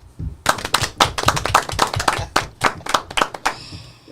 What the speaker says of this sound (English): we're gonna give a clap for this man because he is a professional